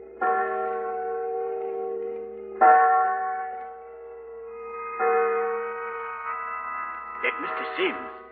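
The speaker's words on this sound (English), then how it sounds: "There go church bells." Church bells on a Sunday ring out in several loud, sustained strikes that each fade into a humming tail, with a brief voice near the end.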